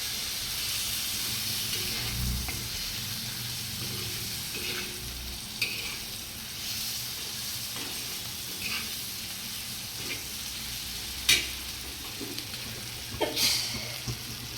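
Steady frying sizzle of dried Bombay duck chutney in an iron pan with intermittent scraping strokes of a spoon stirring, close by, a few sharper clinks near the end.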